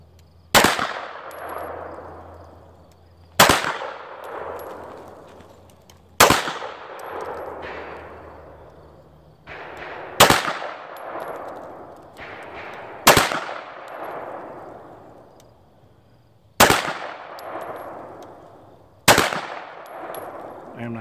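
Pistol shots from a CZ Tactical Sport Orange fired at steel targets, seven sharp loud reports spaced a few seconds apart, each followed by a ringing metallic clang that decays slowly.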